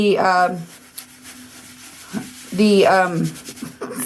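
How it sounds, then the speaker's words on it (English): Baking soda and Listerine being rubbed into an antique by hand: soft, scratchy scrubbing strokes close by, with a voice talking over parts of it. "I'm going to rub the baking soda in with the Listerine on this half"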